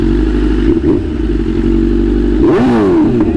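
A motorcycle engine idles loud and steady, then revs up sharply near the end with a rising, falling roar, close by with no talk over it.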